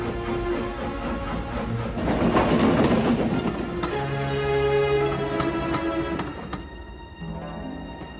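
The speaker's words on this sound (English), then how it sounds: "Meanwhile, James puffed along his route." A steam engine puffing along its route on a railway, with steady chuffing, rolling wheel clatter and chugging that builds midway, backed by music with no voices.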